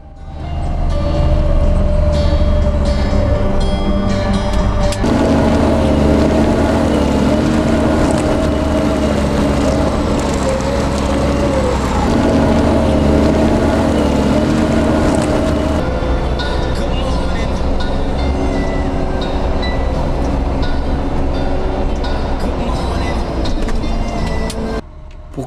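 A Pistenbully 300 Polar W snow groomer with a 430 hp engine runs on a ski slope, giving a loud, steady diesel drone with a shifting tone. Speech is heard over it.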